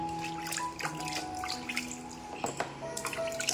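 Water splashes and runs steadily during a small child's bath, a continuous wet wash that lasts the whole stretch, with a faint tonal background sound underneath.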